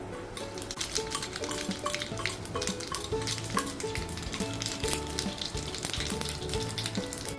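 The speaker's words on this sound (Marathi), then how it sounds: "प्रथम आपण आता गरम केलेल्या तुपामध्ये जिरं घालूया" Steady, crackling sizzle of whole cumin seeds frying in hot ghee, continuous and close, with occasional light clinks of a utensil in the pan.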